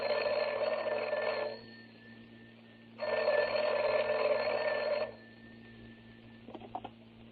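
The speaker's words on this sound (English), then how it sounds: "here's Jack calling Rochester on the long-distance phone" An old-style telephone bell rings in two long trilling bursts with a pause between, in a vintage radio comedy scene of a long-distance call, followed by a faint rattle.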